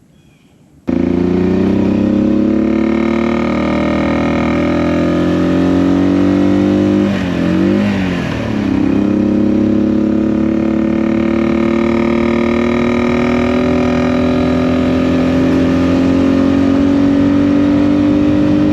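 An old classic motorcycle engine runs steadily close by for the whole stretch, a low rumbling drone that rises briefly midway, with no talking.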